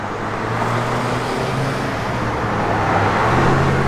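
A 1966 Pontiac GTO with a Flowmaster dual exhaust system drives along, producing a continuous loud, low exhaust rumble with a steady broadband roar.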